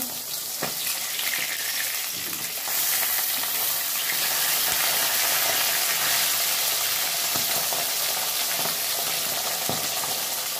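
Tilapia fish fry in hot oil on a lowered gas flame, with a loud, continuous close-up sizzle and crackle and occasional soft knocks as the fish are turned.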